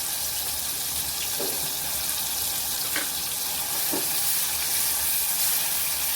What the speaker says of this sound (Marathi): छान आपल्याला तेलात आपलं वाटप परतून घ्यायचं आहे